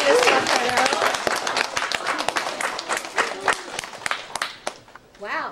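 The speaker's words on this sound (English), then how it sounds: "let's give her a round of applause" An audience of students applauds to welcome an author at a school talk, with a burst of many hands that thins into scattered claps. Voices and children's cheers mix in, and a brief voice rises at the end.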